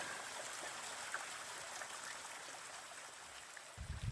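A low-flow waterfall on Salt Creek in Canyonlands sends a faint, steady wash of trickling water, distant and continuous, with no voices.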